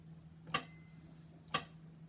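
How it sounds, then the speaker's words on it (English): A metronome ticks at 60 beats per minute, two sharp clicks exactly one second apart over a faint steady hum, quiet and close with no talking. "I have my metronome set at 60 beats per minute."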